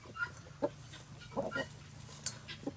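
A rooster with golden feathers clucks softly outdoors in a handful of short, scattered clucks, faint and close by.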